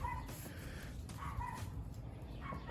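A dog at a yard sale yaps and whines in short bursts against a steady outdoor background, fairly close and moderately loud, with no talking.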